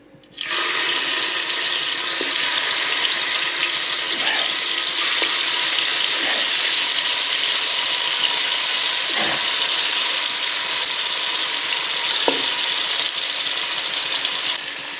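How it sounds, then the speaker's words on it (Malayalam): Rested chicken pieces dropped into hot sunflower oil for a chicken rice dish: a sudden loud, steady sizzling hiss close by that holds throughout, with small pops and bubbling under it. "എണ്ണ നല്ല ചൂടായി വന്നിട്ടുണ്ട് അതിലേക്ക് നമ്മൾ റെസ്റ്റിന് വെച്ച ചിക്കൻ ഇട്ട് കൊടുക്കാം"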